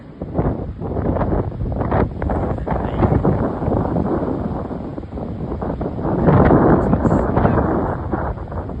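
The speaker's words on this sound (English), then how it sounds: "Wind is still pumping very hard. Strong wind is blowing." Strong storm wind at Morgan Bay batters the microphone in loud, continuous gusts, a dense roaring rush that surges and eases without pause.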